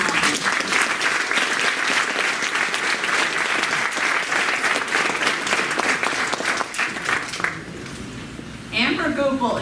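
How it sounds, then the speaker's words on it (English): Sustained audience applause at a campus tribute, dense and steady throughout, thinning near the end before a brief burst of noise. "Round of applause for a woman of many talents."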